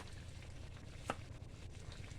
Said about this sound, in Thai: หั่นมะเขือครับค่อยๆหั่นครับนี่มะเขือกรอบ